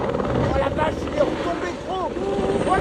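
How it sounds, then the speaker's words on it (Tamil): A firefighting helicopter carrying a giant water bucket flies over a lake near Rosporden in northern France during a wildfire, its steady rotor and engine roar continuous and fairly loud, with a voice heard over it. "ராட்சச பக்கெட்டுடன் தண்ணீர் எடுக்க வந்த ஹெலிகாப்டர்"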